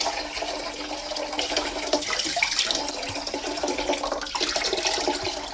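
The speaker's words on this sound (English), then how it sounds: "pasta water's come to the boil" Pot of pasta water at a rolling boil, a steady, busy bubbling and roiling wash of water, close and fairly loud, alone without talk.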